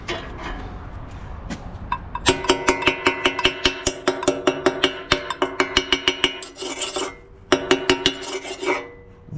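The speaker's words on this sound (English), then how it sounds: "We'll finish it off with a scraper." A scraper works over old, hardened concrete softened by concrete dissolver, giving a rapid run of sharp, close scraping and rasping strokes with brief pauses between bursts.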